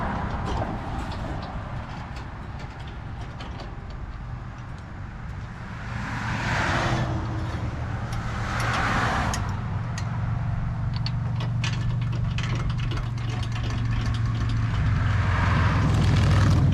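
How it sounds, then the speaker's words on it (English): A 2013 Dodge Durango with a Hemi engine rumbles at a steady low idle that swells louder partway through and holds a deeper drone toward the end, with no voices. "This is a 2013 Dodge Durango with a Hemi in it."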